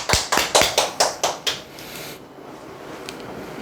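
A small audience at a sales coaching session claps together in about eight distinct, fairly loud claps, then stops and leaves room noise behind.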